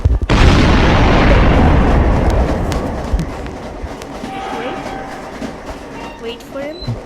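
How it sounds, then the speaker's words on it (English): A video game train arrives with a loud rumbling roar and rattling clatter that slowly fades, with faint bell-like tones and clicks near the end. "So the train is here. The train is here."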